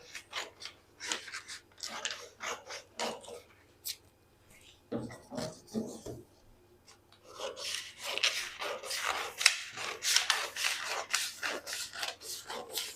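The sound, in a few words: scissors cutting out suit jacket sleeve fabric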